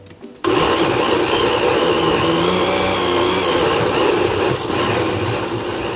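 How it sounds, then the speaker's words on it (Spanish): A kitchen blender whirs at full speed, blending tomatoes with water, a loud steady motor roar that starts abruptly after a brief moment and runs continuously to the end. "vamos a licuarlo."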